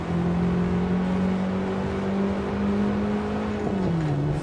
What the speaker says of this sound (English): now I'm just gonna drive a little faster. I'm gonna roll through the gears.